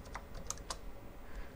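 A computer keyboard is typed on to enter an IP address for a Raspberry Pi network packet generator, with a few quick, quiet keystrokes close by over a low room hum.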